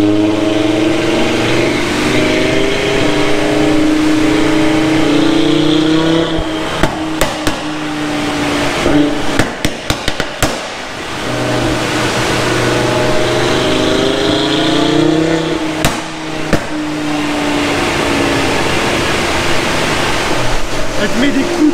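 An Audi TT RS stage 2 running E85 ethanol on a dyno, engine roaring loudly through sustained revs with sharp backfire pops cracking out in clusters, people talking over it.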